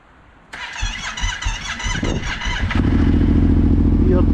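A Yamaha Raptor 700 quad engine cranks with a rapid stuttering churn for a couple of seconds, then catches and settles into a loud, steady idle close by.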